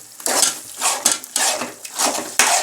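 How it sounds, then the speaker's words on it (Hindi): Sooji halwa being stirred vigorously with a spoon in a pan, loud close rhythmic scraping strokes of metal against the pan with a light sizzle, in about six repeated bursts. "अब हम इसे ज़ोर से चम्मच हिलाएंगे ताकि हमारी गुठलियाँ ना बन सकें"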